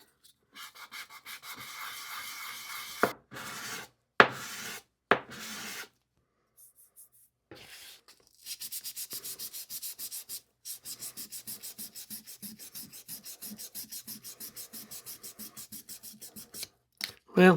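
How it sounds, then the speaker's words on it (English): Wooden pipe stummel having its uneven bottom sanded flat, heard as repeated close, rhythmic scraping strokes in several bursts with short pauses, growing into a steady run of quick rubbing passes near the end. "got a lot of sanding ahead of me"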